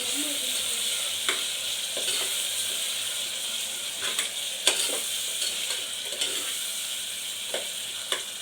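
Coriander, mint and yogurt frying in a pan for chicken pulao, a steady soft sizzle with occasional sharp spatula scrapes spread irregularly throughout, close and without speech.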